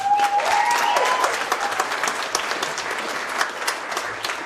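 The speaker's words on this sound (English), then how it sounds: "A nice round of applause for you." Wedding guests applaud the newly married couple: steady, full applause from a room of people, fairly close, with a faint tonal whistle or ring at the start. No one talks over it.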